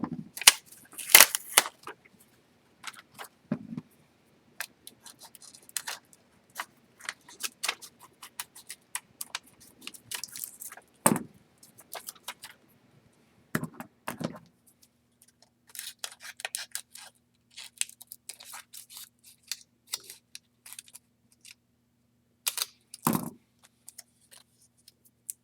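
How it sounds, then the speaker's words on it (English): Scissors cut a paper scrapbook layout into several pieces, giving sparse, crisp snips and clicks scattered irregularly across a quiet background, some louder and closer than others. "I'm just going to go ahead and cut this into several pieces."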